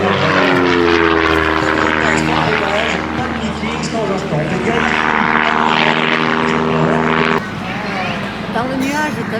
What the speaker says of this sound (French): le pilote a procédé à son approche interrompue à côté de la piste de manière à ne pas être trop proche